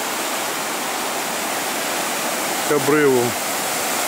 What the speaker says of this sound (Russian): Река несется, смывает все на своем пути.